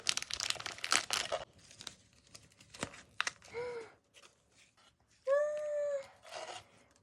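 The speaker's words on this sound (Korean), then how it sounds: "교환한 거 왔어요. 빨리 뜯어볼게요." A traded package of K-pop album photocards is torn open up close, with bursts of crinkling and ripping plastic and paper. Short high-pitched vocal squeals break in between.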